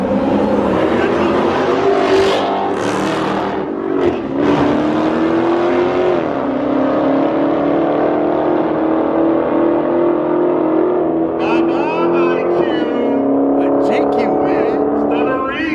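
Two Dodge Hellcats race each other, their engines roaring loudly with rising and falling revs as they accelerate hard, while a voice talks over the noise.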